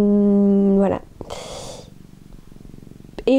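A napping cat named Griné purrs softly at close range, a low steady rumble between stretches of a person talking at the start and end.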